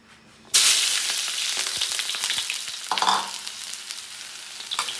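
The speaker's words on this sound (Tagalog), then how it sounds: "gisa natin to." Onion, garlic and ginger hit hot oil in a pan and burst into a loud, steady sizzle, with intermittent scraping and stirring clatters over the frying for ginataang langka.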